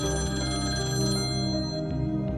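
A telephone rings indoors with a sustained electronic ringing tone, steady and fairly loud throughout, with no talk over it.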